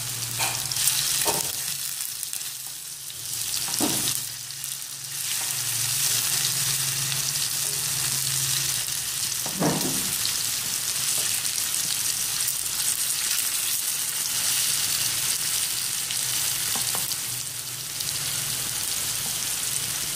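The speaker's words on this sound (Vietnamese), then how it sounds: "Khi đậu, khi dầu mỡ vàng lên thì mình sẽ rán đậu." Tofu fries in hot oil in a home kitchen, giving a steady, dense sizzle throughout, with a few brief louder pops and spatters and no speech.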